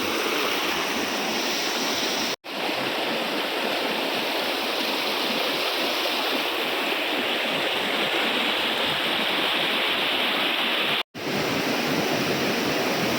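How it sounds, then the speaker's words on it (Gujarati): The Sembalpani waterfall near Ambaji gives a steady, dense rush of falling water across the whole stretch, loud and close, with two brief cuts to silence and no voices. "આ જ છે સંબલ પાણીનો વોટરફોલ"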